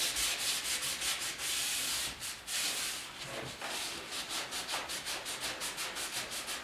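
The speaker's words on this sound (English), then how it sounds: "the worst part of the whole sanding is getting in around your windows" Steady back-and-forth sanding around the windows of a 1956 Ford pickup body, repeated rubbing strokes in a quick even rhythm, close and fairly loud, with no talking.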